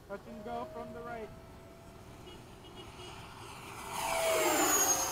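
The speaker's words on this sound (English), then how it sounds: "Touch and go from the right." An FMS 80mm Hawk RC jet making a touch and go at a flying field, its turbine whine faint and distant at first, then swelling into a louder rushing roar as it passes, with voices talking early on.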